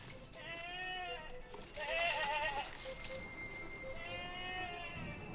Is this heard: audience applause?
no